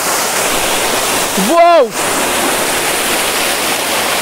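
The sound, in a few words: waterfall at Kondhana caves, Karjat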